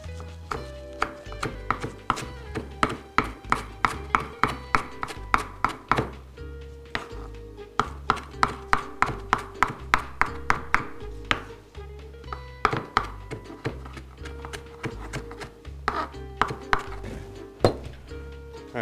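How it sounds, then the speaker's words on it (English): Basil being chopped with a knife on a cutting board in a home kitchen: a steady run of crisp, close knife strikes in quick rhythmic bursts with brief pauses, and no talking. "Now I'm going to chop this basil up."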